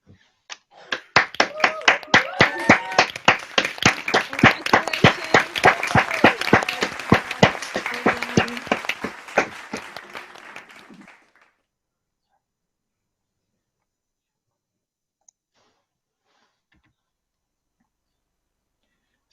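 Graduates clap and cheer together over an online call, a dense burst of many hands applauding with some whoops, steady for about ten seconds before cutting off into silence.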